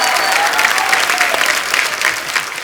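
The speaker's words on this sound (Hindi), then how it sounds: "इन तीनों फनकारों के लिए जोरदार तालियां" A studio audience at a comedy talk show claps loudly and continuously to greet three guests arriving on stage, a dense wash of applause throughout.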